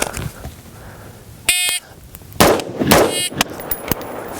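Two sharp rifle shots at a target land in quick succession, loud and close, after an electronic shot-timer beep, with outdoor range ambience and a faint ringing tail.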